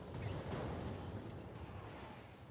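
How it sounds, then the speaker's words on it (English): A BattleTech mech's ammunition cooks off in a video game explosion, a dense low rumble that stays loud and steady for a couple of seconds, with a few faint high pings over it. "Hostile eliminated. Ammo explosion."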